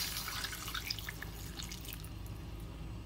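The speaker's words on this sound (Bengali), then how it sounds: "এই জলটা আমি এর মধ্যে দিয়ে দেব" Boiled water being poured into a cooking pan of paneer ghugni, a soft continuous trickle and splash with faint droplet sounds, quiet and close, with no talk.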